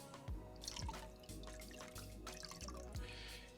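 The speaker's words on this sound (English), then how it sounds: "I can literally just kind of rinse off the wine" Bottled water is poured to rinse red wine off a CASETiFY phone case for an iPhone 17 Pro, giving soft trickling and dripping in several short bursts, close and fairly quiet.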